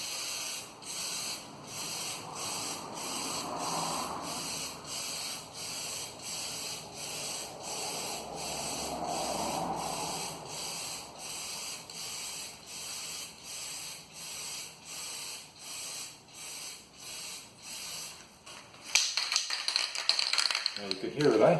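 An aerosol spray can hissing in a long run of short rhythmic bursts, steady and close, with faint talk under it; near the end the hiss grows louder and rougher as the can runs empty.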